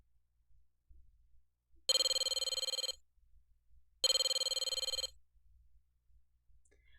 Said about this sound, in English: Mark answered the phone.